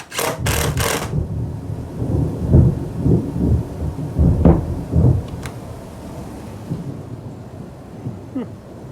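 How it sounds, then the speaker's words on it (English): Deep rolls of thunder from an approaching storm rumble through a box van being fitted with solid oak floors, a low, rolling boom swelling and fading over several seconds after a few sharp knocks. "Guess there's a storm coming."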